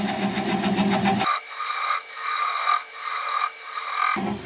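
A wood lathe spins a small cherry plum bowl as a 3/8 inch swept back bowl gouge cuts at slow speed, a steady close scraping hiss with rhythmic pulses as the tool rides the wood.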